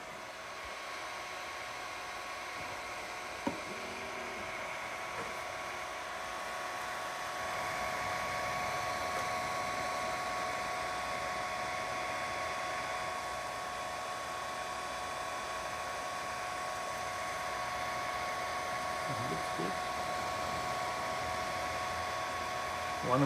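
Ender 3 3D printer fitted with a Voron Afterburner print head printing PETG, giving a steady whirring fan hiss with faint stepper-motor tones and occasional soft clicks throughout.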